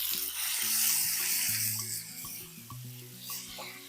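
Chopped tomato goes into browned onions frying in a pan, giving a soft sizzle with repeated clinks and scrapes of a spoon stirring against the pan, close and fairly quiet.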